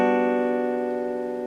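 A major seventh chord in a different voicing is struck once and held, its stacked notes sustaining evenly and decaying gently over about a second and a half, alone without speech.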